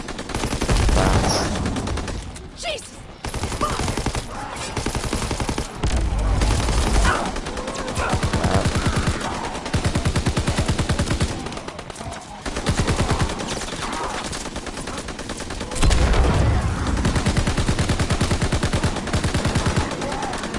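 Gunfire in Call of Duty WWII zombies mode: dense, loud bursts of automatic weapon fire and shots, nearly continuous with brief gaps, running on for the whole stretch.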